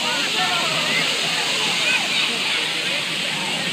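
Water splashing and pouring at a big water park ride, a loud steady rushing wash close by with faint voices mixed underneath.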